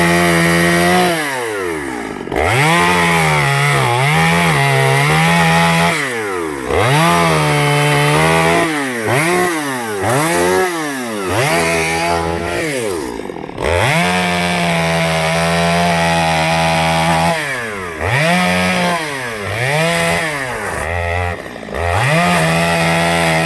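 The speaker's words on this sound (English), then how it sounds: "We get the chainsaw onto it." A chainsaw roars continuously up close, its engine pitch rising and dipping repeatedly as it bites into wood and eases off.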